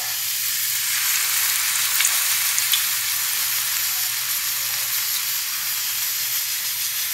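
Vegetable fritters of grated potato, carrot and zucchini frying in hot oil, giving a steady, close, loud sizzle with a continuous bubbling hiss and no one talking.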